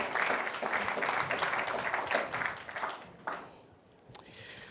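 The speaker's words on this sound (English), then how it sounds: "A round of applause for her, please" Audience applause at a sports-themed talk event, dense clapping that is loud at first and then thins and fades over several seconds, with a few scattered claps near the end.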